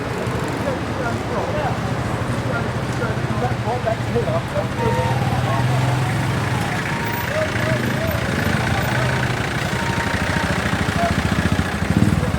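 Steady rumble of a small motorcycle with a sidecar riding along busy traffic in the Philippines, continuous and fairly loud, with faint chatter mixed in.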